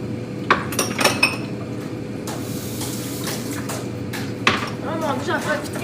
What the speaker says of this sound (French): Vaisselle, c'est pas toute la grosse vaisselle qu'il faut que je frotte là.